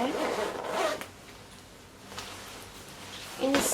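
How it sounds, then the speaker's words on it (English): A one-way zipper on a neon pink puffer coat gets pulled in two quick rasping strokes, one at the start and one at the end, close and moderately loud, with a quiet pause between. "It has nice zipper, one-way zipper, right?"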